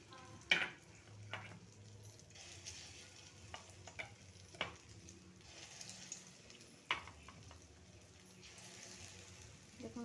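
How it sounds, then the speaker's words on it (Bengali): Biulir dal bora, lentil fritters, frying in oil give a faint, quiet sizzle, punctuated by occasional clinks and scrapes of a utensil turning them in the pan. "ঠিক এইরকমভাবে এইরকম করে আবার ভেজে নেবো আমি বড়াটাকে"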